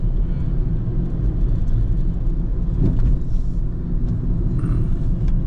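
Steady low engine and road rumble from inside a Toyota Premio car driving through Dhaka traffic, a continuous droning hum with a brief louder swell midway and no talk.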